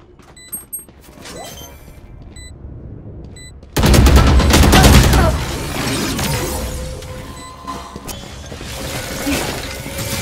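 Gunfire and impacts in the tactical shooter Valorant, with scattered sharp shots early on, then a loud sustained burst of rapid fire and crashing effects that continues at a steady intensity.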